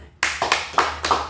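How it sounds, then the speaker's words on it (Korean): A church congregation claps during a Sunday sermon, starting from near silence with a few loud, distinct bursts of hands striking in a rough rhythm, close and full. "이때는 박수를 한번 해봅시다."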